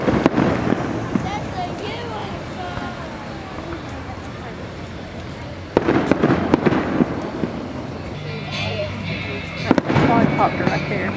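Fourth of July fireworks burst and crackle outdoors in Valdese, loud booms around six and ten seconds with crackling trails between, while spectators talk nearby throughout.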